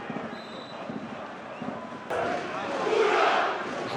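Home supporters of Mura roar in the stands at a Slovenian league football match against Maribor, a broad sustained crowd wash that swells louder in the second half, with a commentator's voice running over it.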